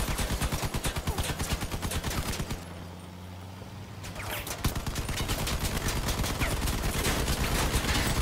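Rapid, loud bursts of vehicle-mounted gunfire in Crossout hammer away steadily, break off into a brief quiet lull with a low engine hum, then resume in a dense continuous barrage.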